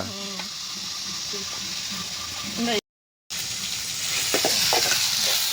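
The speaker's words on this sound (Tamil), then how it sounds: "இஞ்சி பூண்டு நல்லா வதங்கிருச்சு" Ginger and garlic sizzle and fry in a pan for a prawn gravy, with stirring scrapes and a steady hiss, while a person talks over the cooking; the sound briefly cuts out midway.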